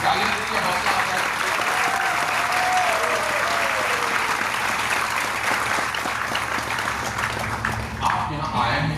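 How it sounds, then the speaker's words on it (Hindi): Steady applause from a large audience at a motivational business convention in Mumbai, a dense continuous clatter of hands held at even loudness for the full stretch and tapering slightly at the very end. "आप ताली दीजिए, हौसला आता है।"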